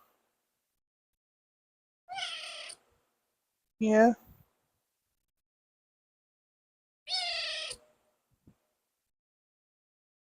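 Ori, a pet cat, gives three short, close meows spaced a few seconds apart in an otherwise quiet room.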